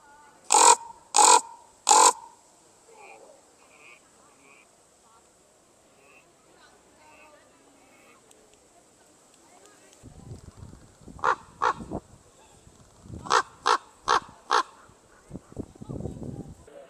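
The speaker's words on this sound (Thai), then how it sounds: "อีกาอ้วนมาก" Crows at the Tower of London give three loud, harsh caws close by, then after a quiet stretch someone talks while more caws come in quick bursts under and between her words.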